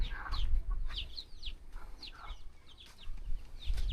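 Country chickens on a native chicken farm, repeated close clucks and short squawks over a low background rumble.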